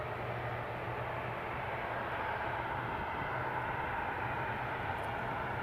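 A British Airways airplane at Edinburgh airport makes a steady, distant engine roar with a low drone, constant in level throughout with no voices.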